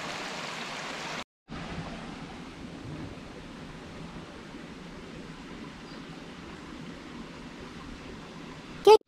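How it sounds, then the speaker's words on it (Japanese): A river flowing near the stone-stepped approach to a mountain shrine, a soft steady wash of running water heard from a short distance, continuous and fairly quiet with a brief cut partway. "近くに川が流れており"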